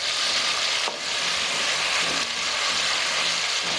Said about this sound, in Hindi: आलू बहुत अच्छे से फ्राई हो गए